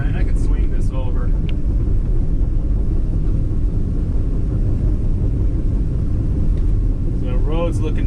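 Steady loud low rumble of a Cat 314E excavator's diesel engine heard from inside the cab while the machine swings over a farm field, with brief voice sounds at the start and end.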